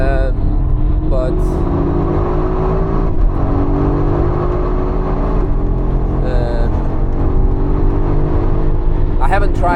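A BMW X5 M engine drones steadily under hard driving on the Nürburgring, with rising and falling revs through gear changes, loud and close throughout, while someone talks over it.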